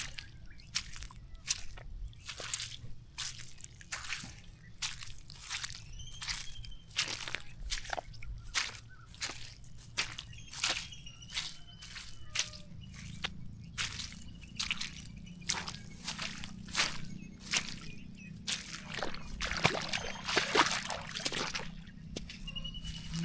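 Squelching, wet steps through waterlogged mud along a flooded paddy-field bund, a steady run of soft squishes and drips with sloshing water, close and continuous, no talk.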